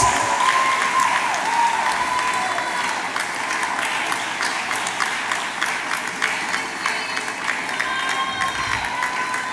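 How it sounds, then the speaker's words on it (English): Loud, sustained applause from a large crowd at a school graduation and awards ceremony, dense steady clapping with some cheering mixed in, welcoming an award recipient, filling nearly ten seconds. "With a round of applause, help me welcome Nisi Ade, who is the award recipient."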